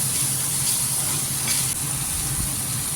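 Turmeric and chilli powder stirred into a sizzling spice paste in hot oil for a pomfret curry, a steady close hiss with soft scraping from the spoon, no talk.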